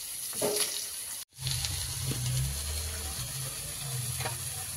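Cut taro pieces dropped into hot oil with fried slit green chilies sizzle steadily, a bright continuous hiss with a brief break and a low rumble under the frying.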